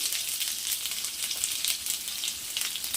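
Chopped onions frying in hot oil with cumin and mustard seeds for a tomato egg curry, a steady, loud, close sizzle with faint stirring and no talk.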